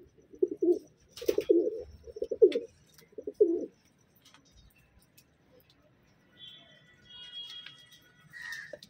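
Madrasi Tatire pigeons in a loft, four soft cooing calls in a row near the start, then quieter chirps and faint background noise.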